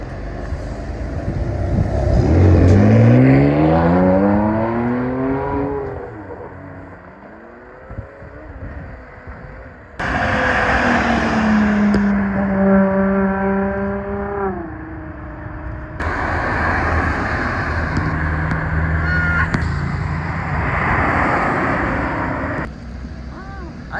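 A one-off Lamborghini Countach carrying a Ferrari Enzo engine revs hard in a carspotting setting, loud rising and falling engine pulls repeated several times, with people talking over parts of it.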